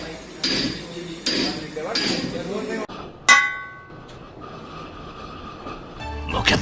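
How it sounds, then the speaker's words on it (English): Hammering an edge in the video game Deadbeat Protocol: three heavy, evenly spaced hammer blows, then a sharp metallic clang with ringing overtones and a softer clink near the end. "Hammering the edge of this fucking of this thing pointlessly."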